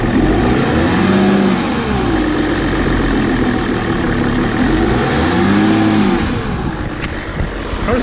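A Mercedes E300 with the OM606 diesel engine runs steadily just after being restarted, a loud, close, smooth idle with a continuous rumble and a slight cyclic swell in tone, no talking.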